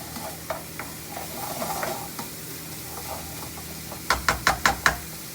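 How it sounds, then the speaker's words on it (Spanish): Vegetables sizzle in a hot pan while being stirred, a steady frying hiss with soft scraping, then a quick run of five sharp knocks of the utensil against the pan near the end, close up. "Lo movemos y dejamos que cocinen los vegetales."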